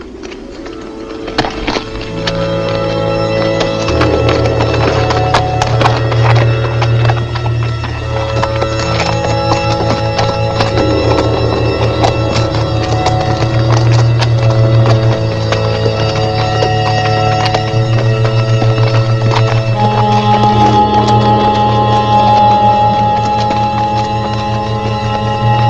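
Several horses trot with brisk, continuous clip-clopping hooves, close and loud, while a neigh breaks through over the steady rhythm.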